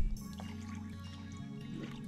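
Water trickling and dripping into a Christmas castle ski resort snow globe as it is topped off during a repair, a soft, close, quiet liquid sound with small splashes and a low steady hum beneath.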